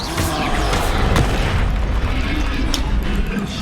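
A Confringo blasting spell goes off in the Hogwarts Legacy video game, a loud, sustained booming rumble with a sharp burst near the start and crackling debris over a dense background roar.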